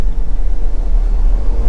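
The engine of a 2022 Jeep Wrangler Willys 4X4 gives a low, close rumble as it accelerates on a gravel road, a steady heavy drone with rough texture and no voices.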